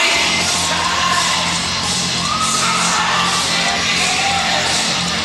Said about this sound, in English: as you can see, the crowd are loving him